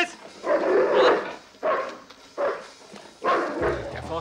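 Dogs bark in four loud, close bursts spaced about a second apart, with a gap of quiet between each volley.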